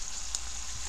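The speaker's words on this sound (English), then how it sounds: "I'm frying some hamburger meat." Hamburger meat fries in a cast iron pot with a faint, steady sizzle, heard briefly and alone at close range.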